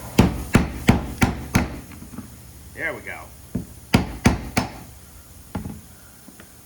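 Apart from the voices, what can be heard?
hammer blows on rusted fuel pump lock ring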